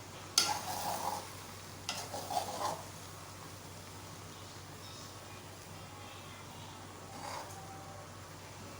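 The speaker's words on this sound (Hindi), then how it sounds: "अब इस टाइम पे बिल्कुल हल्के हाथों के साथ मैं हिला दूँगी" Rice pulao with chicken and potatoes stirred gently in a cooking pot, a few soft scraping stirs in the first three seconds over a faint steady sizzle, then quiet simmering.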